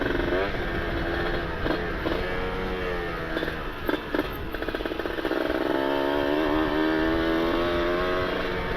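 A two-stroke motorcycle ridden on light throttle through Bandung streets on a Sunday afternoon, its engine a steady buzzing drone that holds close and continuous, with small throttle variations and no talk over it.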